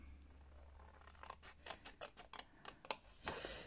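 Scissors cutting paper for a paper pencil case, a quick run of crisp snips close by, starting after a quiet moment and speeding into rapid strokes.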